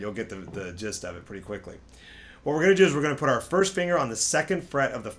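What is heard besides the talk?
No distinct noise like a dog, phone or traffic.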